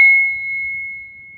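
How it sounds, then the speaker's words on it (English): A Tibetan bell struck once, a clear bright ding with a sharp attack that rings on as a pure, slowly fading sustained tone, close and alone. "this is why I do this with my Tibetan ringing bell"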